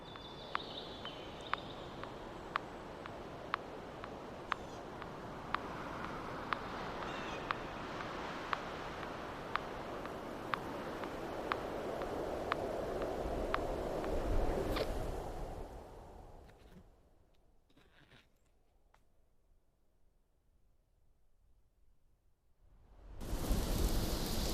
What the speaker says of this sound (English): Hey, it's still raining in my camp. Always, always bad weather.